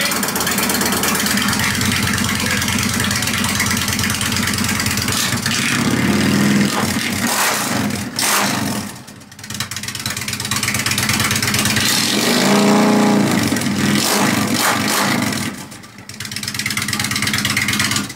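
An Indian motorcycle with a 111 cubic inch engine idles with a steady, loud rumble, then is revved twice in two swelling bursts before settling back to idle.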